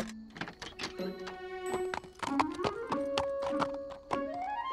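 Restless young foals in a stable stall in a horse cartoon, with scattered hoof thumps, shuffling knocks and whinny-like calls over a tonal background.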